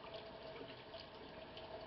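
Tap water running steadily into a kitchen sink while baby bottle rings are rinsed, a soft continuous splashing stream heard close and fairly quiet with no talk.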